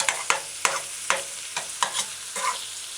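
Onions sautéing in a pan for a jerk hamburger. A soft sizzle is broken by about seven sharp, evenly spaced stirring scrapes, close and fairly quiet, with no voices.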